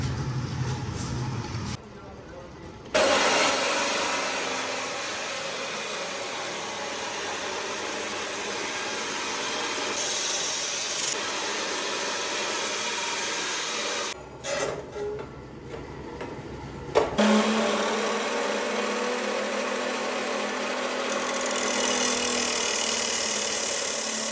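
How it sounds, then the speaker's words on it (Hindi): An angle grinder cuts metal in a welder's shop, a loud, steady, harsh whine that runs almost throughout, briefly dropping out twice before surging back. "काम चूँकि ग्राइंडर का है तो ग्राइंडर हो गई थी चालू"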